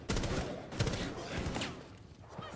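Rapid gunfire from Rainbow Six Siege Outbreak, a volley of close, loud shots repeating through the moment, with a voice briefly heard amid the shooting.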